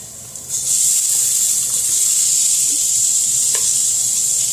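Vegetables tossed into a hot pan for a keto meal, setting off a loud, sudden sizzle that holds as a steady bright hiss with a couple of faint clicks, no talking.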